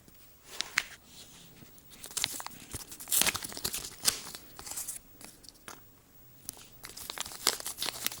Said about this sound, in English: it's time to open up the Robinson Racing slipper clutch and see what's in here